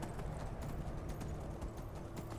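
Horse hooves clip-clop in a steady, even rhythm at moderate distance in the Skyrim game world, faint and continuous with a soft ambient bed beneath.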